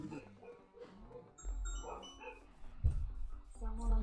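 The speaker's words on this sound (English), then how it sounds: "Dogs are going mad." Dogs bark and yip in short bursts at moderate loudness, mixed with game sounds and other noise from a Minecraft survival world.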